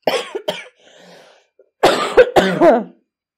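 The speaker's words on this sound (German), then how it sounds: "es tut mir echt leid, ich muss so viel husten" A person coughs repeatedly up close in several harsh bursts, with a quieter throaty rasp in between and short silent gaps.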